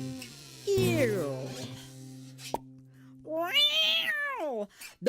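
A cat meows twice, with long rising-and-falling calls about two seconds apart that are close and clear. The scene is a comedic Christmas holiday special, and there is some background talk around the calls.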